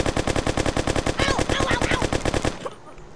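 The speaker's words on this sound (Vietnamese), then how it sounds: "một khẩu súng máy nhá." A machine gun turret in the mobile game Kick The Buddy fires a rapid, steady stream of loud shots for about two and a half seconds, then stops abruptly.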